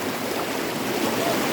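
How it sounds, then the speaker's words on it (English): Fast-moving river water at the falls by a cold-plunge spot rushes steadily, a dense, close, continuous roar of churning water with no pauses and no talking. "Oh, that water's moving today"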